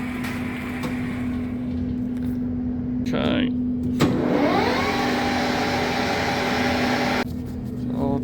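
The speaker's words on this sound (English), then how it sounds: "Okay, so this is now a slow speed." A Takang TK330 centre lathe runs at slow spindle speed after a gear lever is shifted from high to low, giving a steady mechanical hum with a rising whine partway through. A brief word is spoken over the machine noise.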